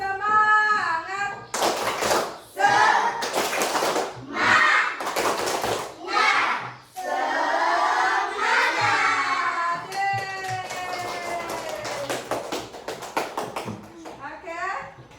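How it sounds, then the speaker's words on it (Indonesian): Children perform a rhythmic spirit clap (tepuk semangat) in a classroom, with bursts of group clapping and chanting voices alternating in a lively patterned sequence over about fifteen seconds. "ayo kita tepuk semangat biar tambah semangat"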